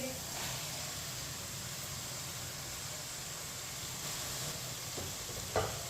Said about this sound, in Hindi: कटे हुए टिंडे डालेंगे।